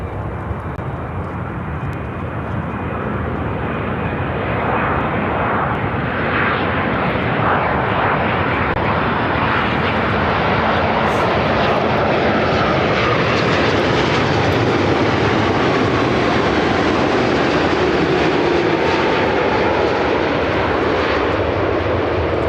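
A United Airlines Boeing 787-10 Dreamliner lands on arrival from Amsterdam, its loud jet roar building steadily and then holding as a broad, sustained rumble close overhead, heard alone without voices.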